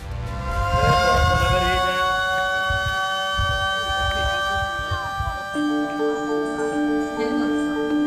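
A siren sounds a sustained, steady tone with strong harmonics throughout. Its pitch shifts partway through, over a rumbling background.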